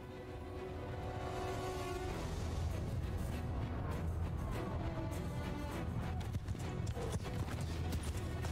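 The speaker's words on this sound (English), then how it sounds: "My horse archers running through their lines." Rapid hoofbeats of galloping horse archers in the video game Mount & Blade II: Bannerlord thunder continuously, dense and loud, with a low rumbling battle din underneath.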